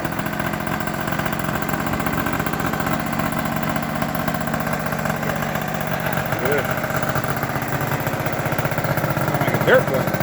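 A motorcycle engine idles through a new exhaust pipe with a fast, steady, throbbing pulse, close and loud throughout, and voices are faintly audible underneath.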